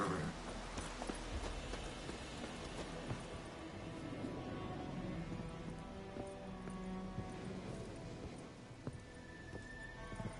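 A horse in The Witcher III ridden at a slowing pace, hooves clip-clopping steadily over ground amid soft rustling game ambience, with no one talking.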